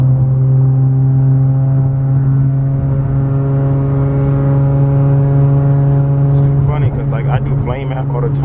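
A loud car engine idles and revs with a steady deep drone throughout, close and constant, with brief rougher bursts near the end.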